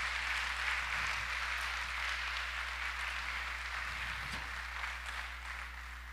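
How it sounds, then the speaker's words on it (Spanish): A church congregation applauding during a Sunday morning service, a steady, fairly faint wash of clapping that holds for several seconds over a low hum, with no talking. "demos un aplauso fuerte a nuestro Dios"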